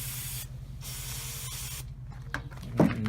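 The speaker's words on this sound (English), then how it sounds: "let's add a little bit more of the WD-40" WD-40 is sprayed onto a step drill bit during a motorcycle foot peg mount repair, with two short hissing bursts of aerosol spray followed by faint clicks and handling noises nearby.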